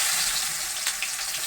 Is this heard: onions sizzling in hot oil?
yes